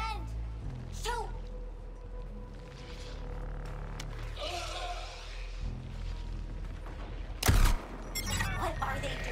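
Bursts of gunfire ring out in the action game Suicide Squad: Kill the Justice League, with scattered shots and a sharp loud crack near the end over a dense, noisy battle background; voices talk over parts of it.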